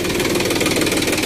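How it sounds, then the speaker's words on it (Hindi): A farm tractor engine running at a steady idle-like chug with a knocking, vibrating rhythm, close and continuous throughout the short stretch, with no talk over it. "ट्रैक्टर की आवाज़ आ रही है।"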